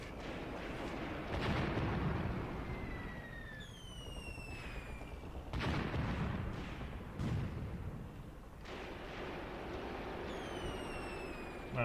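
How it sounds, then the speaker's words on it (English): A Panzerbüchse anti-tank rifle fires at a tank in Graviteam Tactics, WWII tactical game: sharp distant cracks at irregular intervals over battlefield rumble, with whistling projectile streaks and no talking. "Yep, the Panzerbuchse is shooting at it."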